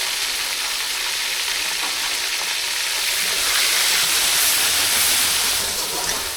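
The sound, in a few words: onions frying with garlic and ginger paste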